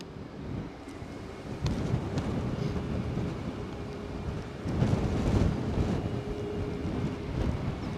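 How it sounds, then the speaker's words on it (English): Wind at Edinburgh airport, a steady broad rumbling roar buffeting the microphone outdoors, with stronger gusts surging around the middle of the stretch, and no talking. "Wind is picking up"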